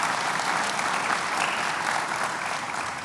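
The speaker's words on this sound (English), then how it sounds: "a round of applause for all three" A crowd at a Detroit Economic Club luncheon gives steady applause for three speakers, a continuous dense wash of clapping that fades slightly toward the end.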